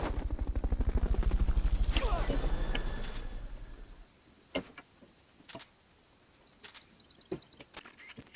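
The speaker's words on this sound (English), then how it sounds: "Fulton recovery helicopter is complete." A Fulton recovery helicopter in the video game Metal Gear Solid: Peace Walker thumps with rapid rotor chopping that swells and fades over several seconds, followed by sparse clicks and short sharp game effects.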